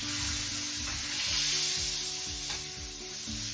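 Smash burger patties sizzle loudly on a hot pan, a constant close hiss with repeated scraping and pressing strokes underneath, no talking.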